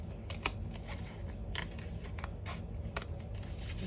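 Scissors snip steadily through paper in a series of crisp, close cuts, fairly quiet, with no talking.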